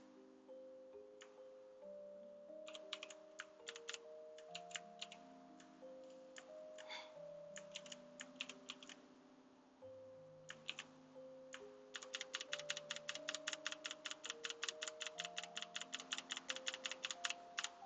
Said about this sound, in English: I hope you like the clacky sound of my keyboard.